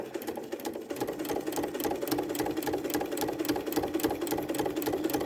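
A sewing machine runs steadily, stitching a line of quilt block fabric in a fast, even mechanical patter that carries through the whole stretch, close and fairly loud with no talk.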